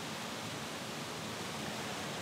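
Rushing water of the river Oker at a hydroelectric plant, a dense, steady roar of flowing water with no breaks and no voices.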